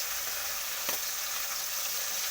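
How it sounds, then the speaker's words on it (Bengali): Small fish fry in hot oil in a pan with a continuous, even sizzle and a single brief clink near the start. No one speaks. "মাছগুলোকে ভালো করে ভেজে নিচ্ছি।"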